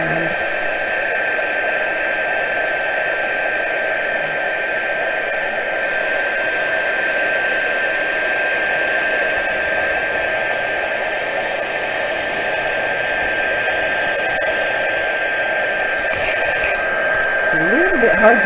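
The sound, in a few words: heat gun heat setting embossing powder on a card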